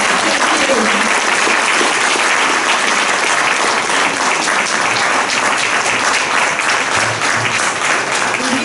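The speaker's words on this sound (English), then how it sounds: "One more round of applause." A forum audience breaks into loud, sustained applause, thick and continuous clapping from a full room that carries on for several seconds at an even level.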